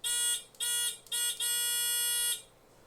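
A 1.5 volt buzzer powered by an AA battery and keyed with a Morse key gives loud, piercing electronic buzzes in four bursts, three short and one long, with clean gaps between them.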